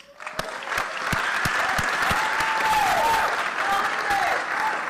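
Audience at a university Charter Day celebration applauding honor societies, sharp individual claps at first swelling into sustained, loud massed clapping, with faint voices and whoops beneath.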